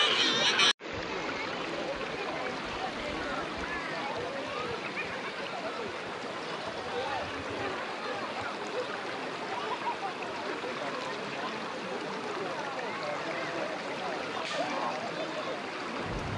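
Water from the Sungai Chilling waterfall in Malaysia rushes past in a constant broadband wash, moderately loud and unbroken after a brief cut at the start.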